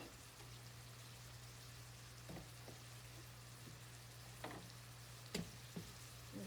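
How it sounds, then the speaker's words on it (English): Celery and carrots sauté in butter in a skillet, a faint steady sizzle with a low hum underneath and occasional soft clinks of stirring. "here we're going to saute the celery now and the carrots"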